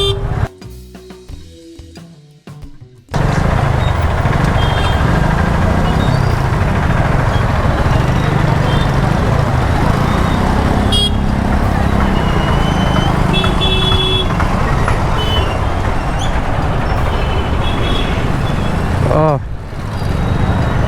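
Heavy traffic jam of trucks and other vehicles: a steady, dense roar of engines and road noise, with a car horn sounding several times near the end and voices faintly under the din.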